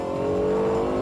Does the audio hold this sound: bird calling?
no